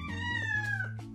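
A cat gives a single drawn-out, slightly falling meow, close and clear against a low background hum.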